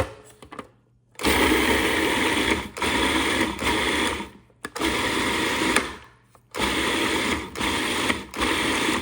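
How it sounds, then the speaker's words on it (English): A food processor chops onions for kabab kobideh, its motor whirring loudly in bursts of a few seconds separated by brief pauses, close up with no talk. "food processor ready."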